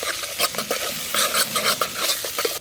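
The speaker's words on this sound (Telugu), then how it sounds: "అల్లం పేస్ట్ ఎత్తాను. మాడిపోకుండా కలుపుకోవాలి." Ginger paste stirred in a hot pan for a village-style tribal chicken curry: quick, uneven scraping strokes of a spoon over a soft sizzle, close and fairly loud, with no talking.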